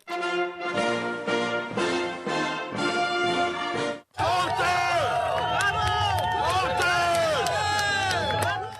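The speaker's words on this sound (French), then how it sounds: "Lundi, le premier ministre Sébastien Lecornu a été accueilli, par ce qu'on vient d'entendre, des huées lors de son passage dans une commune dévastée de Gironde" A crowd boos French prime minister Sébastien Lecornu on his visit to a wildfire-devastated commune in Gironde: a loud, dense mass of jeering voices that breaks off briefly, then resumes with full force.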